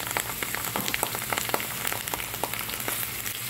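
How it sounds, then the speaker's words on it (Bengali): Onion paste with ginger and garlic paste fries in a pan, producing a close crackling sizzle of dense irregular pops that continues steadily throughout. "এখন এখানে আদা বাটা, রসুন বাটা এবং এখানে 2 চামচ পেঁয়াজ পেস্ট দিয়েছি।"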